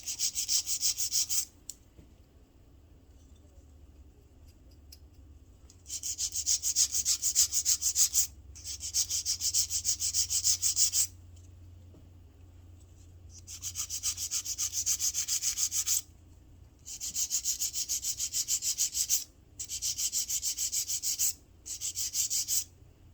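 Acrylic nails being filed along each side, a dry, raspy scraping that comes in several long bursts of a few seconds each, with short quiet pauses between them and no talking.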